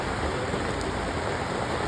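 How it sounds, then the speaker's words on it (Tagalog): Rain pours outside a street-side restaurant, a dense, steady hiss of drops that fills the short moment evenly, with no voices. "Ayan, sakto umuulan pa."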